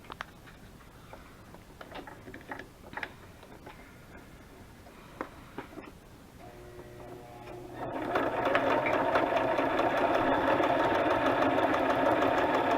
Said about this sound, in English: I am going to sew all the way around it except for the top